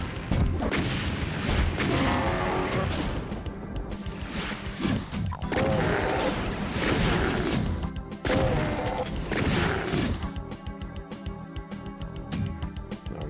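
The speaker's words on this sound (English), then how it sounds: "I think now's a good time for Mr. Rocket Launcher." Rocket launcher firing in the video game Cultic, a Doom 2 style shooter, with repeated heavy booming blasts and crashing impacts over dense, loud game noise, no speech.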